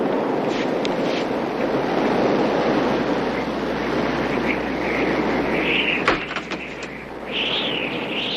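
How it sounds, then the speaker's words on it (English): Cold wind blowing steadily outdoors, a broad continuous rush with gusty swells and faint whistling near the end, heard alone without voices. "Cold wind outside."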